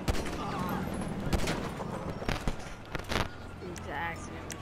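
Gunfire in Grand Theft Auto V at a beach, a few sharp bursts of shots under busy game ambience and background chatter, set at moderate distance.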